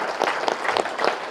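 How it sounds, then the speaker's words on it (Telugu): Audience applause at a spiritual gathering, a steady wash of many hands clapping close and loud, with a few stronger bursts pulsing through it. "ఒకసారి గట్టిగా చప్పట్లు కొడదాం"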